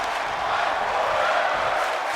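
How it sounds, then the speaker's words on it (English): Wrestling arena crowd in the WWE 2K24 video game roaring and chanting, a steady dense wall of cheering from a large audience with no break, sustained at full volume throughout. "this crowd loving it, chanting, fight forever"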